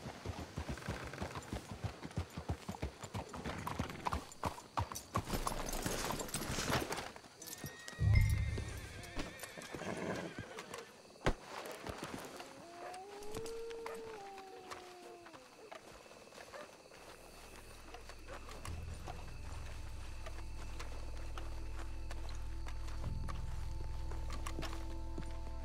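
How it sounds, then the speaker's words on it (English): Horses in the game Red Dead Redemption 2 clip-clop along, with a loud whinny partway through and a snort, then the hoofbeats slow and fade as a low rumbling ambience rises and holds to the end. "Let's hitch your horses up ahead."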